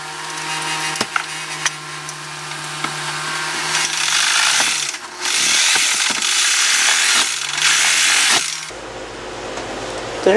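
A Sawzall reciprocating saw cuts in bursts during a 1997 Holiday Rambler RV remodel, a buzzing, rattling rasp that stops and restarts several times, close and loud, with a short pause near the end.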